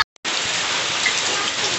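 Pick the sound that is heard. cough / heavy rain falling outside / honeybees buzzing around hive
heavy rain falling outside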